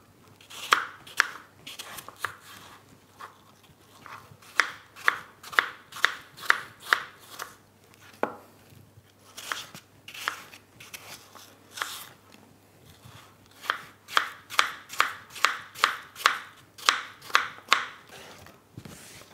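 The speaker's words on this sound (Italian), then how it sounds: "Taglio la mela a dadini piuttosto piccoli." An apple being cut into small dice on a cutting board: quick runs of sharp knife chops, loud and close, in bursts with short pauses between them.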